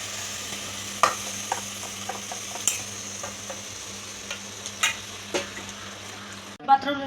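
Marinated chicken for a Malabar chicken biryani sizzles steadily in a pan, with scattered scraping stir strokes over a low hum, close and moderate in level; a brief louder clatter comes near the end.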